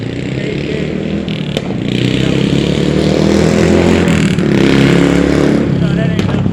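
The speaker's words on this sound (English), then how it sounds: "riding down the motherfucking street on that motorcycle" A motorcycle rides down the street with a loud, rough engine drone that swells around the two-second mark and stays strong, with voices heard over it.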